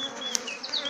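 Honeybees buzz around a strong, busy hive, a close swarm hum with individual bees whining past, heard alone for about a second.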